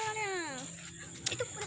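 A pet cat gives one clear, drawn-out meow close by, with a falling pitch, followed by faint background noises.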